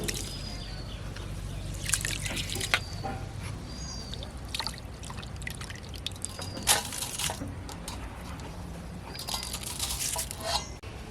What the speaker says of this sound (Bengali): এখন ধুয়ে জল ঝরতে রেখে দেবো।